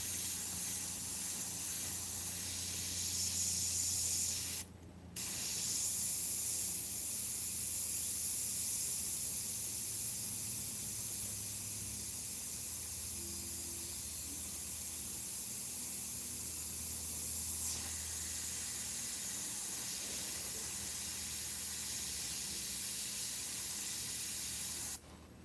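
Iwata CM-SB airbrush spraying Createx paint onto Claybord, a steady close hiss that runs nearly continuously, broken by one brief pause in the trigger flow before resuming.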